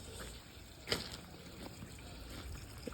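Water runs faintly from a hose on an outside spigot by a stock tank pool, a soft steady trickle with a brief splash.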